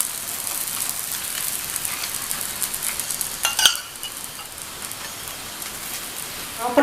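Paratha fries in oil on a flat pan with a continuous, dense, close hiss like light rain, broken by a brief clatter partway through.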